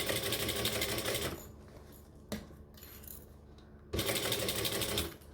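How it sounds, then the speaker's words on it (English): A sewing machine stitches piping onto a panel, running steadily in two bursts with a quiet pause between them, close and clear, with no talking. "This is probably the slowest you see me sew with piping, but still worth it."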